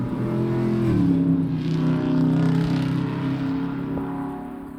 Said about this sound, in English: somebody is revving the engine up the street